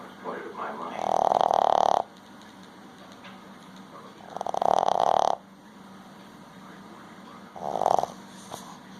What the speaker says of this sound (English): You're snoring, huh?